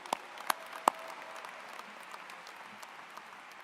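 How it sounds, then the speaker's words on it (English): Faint, distant audience applause for student athletes at a university graduation celebration, a soft continuous patter with a few sharper claps near the start, no speech over it. "Now we need to give them a round of applause for that too."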